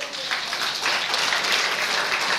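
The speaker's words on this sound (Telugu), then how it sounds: "హల్లెలూయా చప్పట్లు కొట్టండి" A church congregation applauds during a pastor's sermon, a steady, full wash of many hands clapping at moderate loudness.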